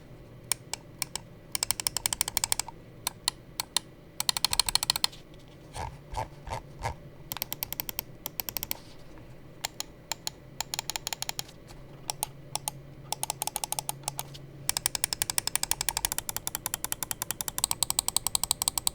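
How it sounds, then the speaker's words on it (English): Rapid bursts of crisp clicks from a Fantech Helios II Pro gaming mouse, fast trains broken by brief pauses and a few slower single clicks, close and dry, with no talking. "let's go ahead and drop a quick click and build quality sound test"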